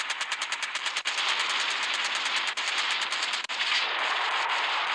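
Machine gun fire in a gunship battle video game, a continuous rapid stream of loud crackling shots with a steady fast rhythm, briefly broken by short gaps, close and dominant with no talk.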